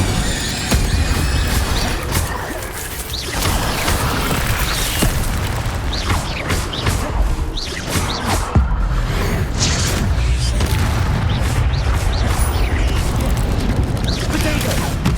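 Incendio fire spell cast during Hogwarts Legacy combat, a dense, loud stretch of whooshing bursts, booms and mechanical clatter that continues throughout, with battle noise and occasional voices mixed in.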